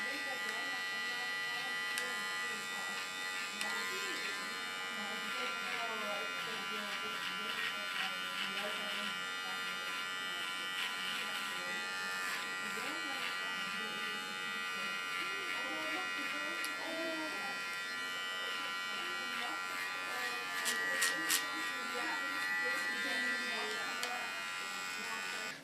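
An electric hair clipper buzzes steadily and continuously while trimming ultra-short hair, close and fairly loud, with a slight pitch variation as it moves across the head and a voice speaking over it.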